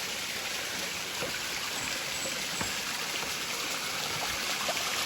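A stream flows in a steady, dense rush of water, close and constant with a fine splashing hiss and no voices.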